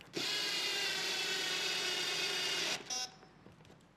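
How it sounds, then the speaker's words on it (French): A power drill driving screws into sliding door rollers whines steadily for nearly three seconds, then stops, followed by a short second burst and some faint handling noise. "Vous pouvez visser simplement les rouleaux avec votre perceuse visseuse."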